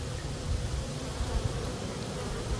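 Honeybees buzz around a beehive before winter, a dense continuous drone of many wings close by and steady throughout, with no voices.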